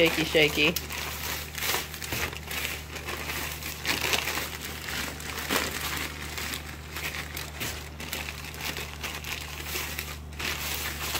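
Pieces of monkey bread dough for an orange pecan recipe are shaken in a plastic bag, producing continuous close crinkling and rustling while a person talks over it.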